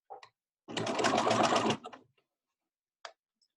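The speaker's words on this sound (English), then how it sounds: "Put the binding, the elastic and the mask under the machine and sew a 1/4 inch from" Sewing machine stitching elastic and binding onto a fabric face mask, one loud steady run of about a second with a few faint clicks before and after, no talking.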